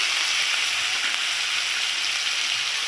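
Onion fries in hot oil with ginger, garlic and green chili paste and turmeric, for a Bengali rui fish head curry with ridge gourd. A steady, close, loud sizzle hisses on without a break.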